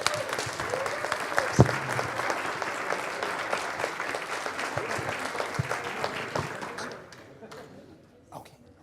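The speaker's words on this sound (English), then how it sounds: "A round of applause for Dave Dundee" An audience at a planetarium conference session claps in a dense, lively burst that stays strong for about seven seconds, then thins out to a few scattered claps and near quiet, with a voice briefly heard amid the crowd.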